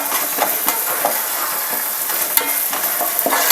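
Onions with salt fry in a pan while being stirred, a loud continuous sizzle with periodic scraping clicks of the utensil against the pan.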